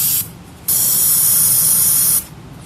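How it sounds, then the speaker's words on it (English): A can sprays fogging oil into the cylinders of a 1975 Ford 460 engine, with a short burst, a pause, then a loud sustained hiss of about a second and a half, close up and with no talk. "We're going to spray in those cylinders, let them soak, put the plugs back in,"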